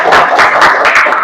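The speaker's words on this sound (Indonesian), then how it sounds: "kita tepuk tangan semangatnya dulu dong buat kita hari ini ya" Students in a classroom clap together in a short, dense burst of applause, steady and fairly loud throughout with no voices standing out.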